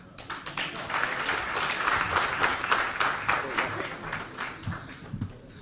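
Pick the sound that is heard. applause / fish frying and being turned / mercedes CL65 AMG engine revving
applause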